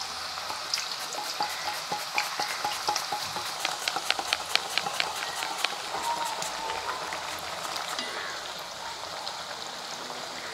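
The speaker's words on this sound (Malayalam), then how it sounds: "ഈ സമയത്ത് നമ്മൾ ക്ലീൻ ചെയ്ത് വെച്ചിരിക്കുന്ന പച്ചക്ക ഓരോന്നോരോന്നായിട്ടാണ് എണ്ണയിലേക്ക് ഇട്ട് കൊടുക്കാൻ പോകുന്നത്" Green plantain slices fry in hot oil, giving a steady bubbling sizzle full of dense, rapid crackles and pops that continues throughout at moderate loudness.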